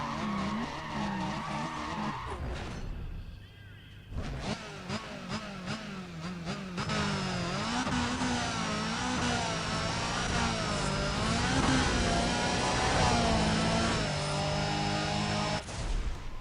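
Toyota Supra race car fitted with a body kit in a Need for Speed racing game: continuous loud engine roar with shifting revs, tire skids and squeals, and short breaks in the sound, with no one talking.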